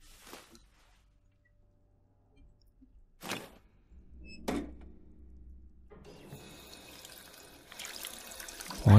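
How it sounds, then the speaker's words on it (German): Clear water running from a tap in Fallout 4, a thin trickle that begins partway through and grows into a steady quiet flow, preceded by a few isolated clanks and soft knocks. "Oh, hier kommt sogar klares Wasser raus."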